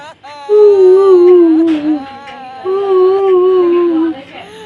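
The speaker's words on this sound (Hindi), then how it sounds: "तो रोने की आवाज आ रही।" Two long wavering wails of crying are used as an effect in a horror story set at a haunted railway crossing, loud and close, each drawn out for about two seconds with a short break between.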